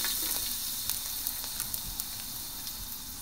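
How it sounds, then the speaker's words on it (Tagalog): Garlic sautéing in hot oil in a large pan, a continuous bright sizzle and crackle with a few soft pops, steady and close throughout. "Ngayon po, magigisa na po tayo. Lagay po natin ang oil."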